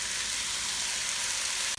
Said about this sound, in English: while I'm batch caramelizing the onion next to me, you can hear the sizzling